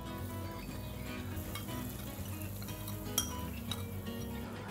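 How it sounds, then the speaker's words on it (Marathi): Hot oil tempering (phodni) for homemade pickle sizzling steadily in a pan while being stirred, with a couple of brief metal clinks from the spoon; close and continuous, no talking. "आता जे आपण फोडणी करून घेतलेली आहे ती ढवळत राहायची"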